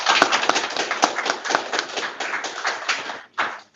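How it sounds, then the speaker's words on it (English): Applause from a seated audience at a guest speaker evening, a crisp burst of close hand claps that thins out toward the end, with no talking. "Let's give him a round of applause, please."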